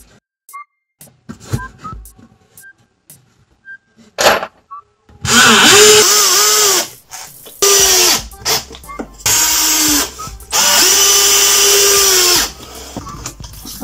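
A power drill drives screws into a planter built from pressure-treated wood scraps, whining up in several close bursts with pauses between them, preceded by scattered clicks and handling noises.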